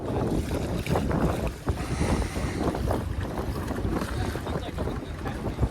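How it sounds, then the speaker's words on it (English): Strong gusty wind buffets the microphone with a constant low roar while towing a kayak on the water, and a person talks intermittently beneath the noise. "the problem is the wind is too much of a hassle right now"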